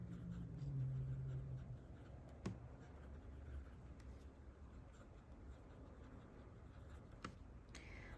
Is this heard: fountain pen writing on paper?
yes